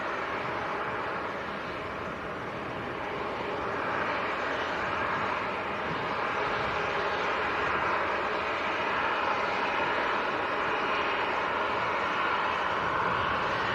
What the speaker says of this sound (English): Ethiopian to Geneva, A350 900 lining up full length.